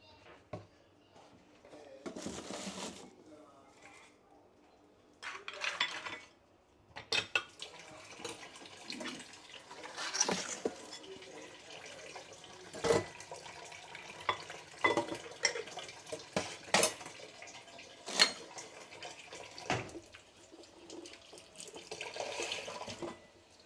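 Dishes being washed under a running kitchen tap, with water splashing and rushing in bursts alongside clinks and clatters of plates, fairly close, continuing in uneven stretches without talk.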